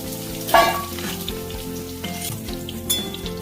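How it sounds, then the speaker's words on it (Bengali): Chunks of papaya and potato fry in hot oil until browned, a steady, loud sizzle with light stirring and the occasional clink of a pan, with no voices. "পেঁপে আলু ভালো করে ভাজা হয়ে গেছে বন্ধুরা দেখো লাল লাল করে ভেজে নিয়েছি"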